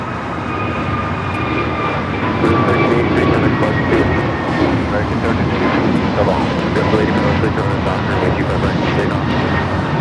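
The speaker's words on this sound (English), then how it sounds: "This is American Airlines 1388 taking off to Charlotte on the A321 Neo" An American Airlines A321neo jet roars steadily on its takeoff roll, a loud, sustained broadband engine rush that swells slightly partway through, with people talking over it.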